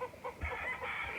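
Chickens on a goat farm clucking and squawking in quick uneven bursts, fairly faint and close together over a short stretch, with no one talking.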